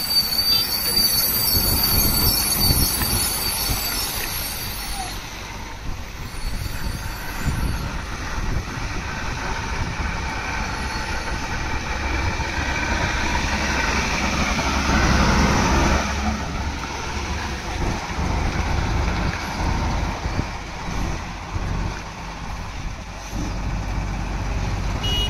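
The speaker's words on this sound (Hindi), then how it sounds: "गाड़ी पीछे लेने की कोशिश।" A Tata truck backs up with a heavy, rumbling engine and grinding, squealing noise that stays loud and close throughout.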